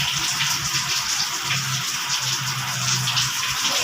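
Water from a newly installed sink faucet in a canteen runs in a steady broadband hiss, close and continuous, with a faint low hum underneath.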